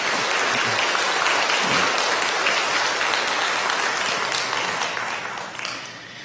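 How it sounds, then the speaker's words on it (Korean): A church congregation gives welcoming applause to new members during a Sunday service, full and loud clapping filling the sanctuary, then tapering off over the last second or so. "여러분들 환영의 박수 부탁드리겠습니다"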